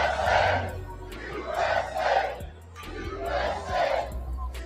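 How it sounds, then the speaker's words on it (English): A large crowd at a political rally chants and cheers in rhythmic surging waves, three loud swells with brief dips between them, filling the space with no one speaking over it. "They're cheering for their own demise right there."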